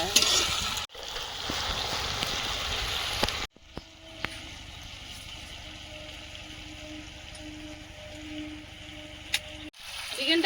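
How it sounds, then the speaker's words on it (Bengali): Chicken frying with garlic in a pan sizzles loudly and densely for the first few seconds, then drops to a quieter hiss with a faint hum and occasional clinks. "চিকেনটা হ্যাঁ, ভালোভাবে রসুন দিয়ে ভেজে নেব"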